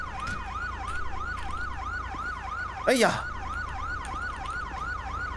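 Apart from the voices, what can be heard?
police car siren in video game GTA V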